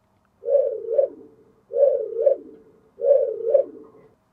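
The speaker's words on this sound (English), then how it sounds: "Number 1 is the KITT scanning sound." A KITT-style scanning sound effect from a sound board fitted in a VW Transporter van, playing three identical swooping two-part sweeps in a steady repeating rhythm, clear and close with no other sound.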